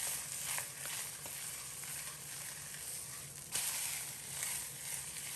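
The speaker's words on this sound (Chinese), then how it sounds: "中火煎1分钟左右，定型以后再轻轻晃动锅，煎好一面，趁其不备翻过来煎另一面" A crucian carp pan-fried over medium heat in a wok, giving a steady, close hissing sizzle with a brief louder burst midway, no voices.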